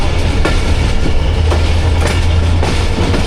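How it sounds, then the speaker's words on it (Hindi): The Rehman Baba Express, running from Karachi to Rohri, approaches Nawabshah railway station in the evening with a loud, continuous rumble of wheels on rails and periodic clattering rail-joint knocks, heard close and alone. "शाम के 7:15 हो रहे हैं और नवाब शाह रेलवे स्टेशन पे अप्रोच बना रही है।"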